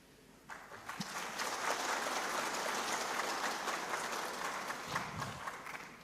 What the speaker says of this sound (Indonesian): Ini tepuk tangan terus